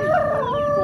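A pelung-cross rooster at Bandongan village poultry market in Magelang gives a loud, close, drawn-out crowing call with a steady tonal pitch and wavering overtones, filling the whole short moment.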